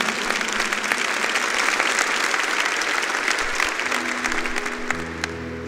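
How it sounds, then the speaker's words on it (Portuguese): A church congregation at Mass applauds the proclaimed word of God, loud sustained clapping from a crowd that carries on steadily, with a held organ or keyboard chord entering near the end. "Podemos aplaudir a palavra de Deus a nós anunciada"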